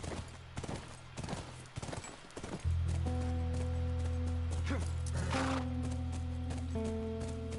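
Horses ridden through The Last of Us video game scenery, their hooves making a steady, fairly close clip-clop that carries on under sustained game music entering partway through.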